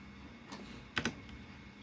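A few quick keystrokes on a computer keyboard, a soft tap followed by a close pair of clicks, faint and isolated in a quiet room.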